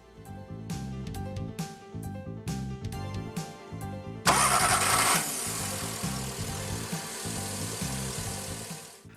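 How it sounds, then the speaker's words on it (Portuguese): VW Gol G5 engine being started with the help of propane penetrating spray, the starter cranking in a steady rhythmic churn for about four seconds before the engine catches and settles into a rough, uneven idle, with no talking. "Acione a partida do motor e, com o auxílio de um spray desengripante com gás propano, force até que o motor pegue."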